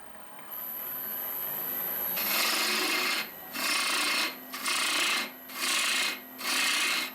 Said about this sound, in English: Gorgeous little tool, this quarter bowl gouge.